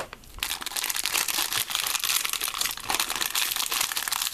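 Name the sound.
packaging being opened with scissors, plastic crinkling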